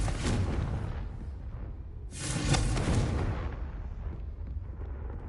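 Spell explosions from Confringo in a video game, two loud booming bursts with crackling tails, the second stronger, over a steady game rumble.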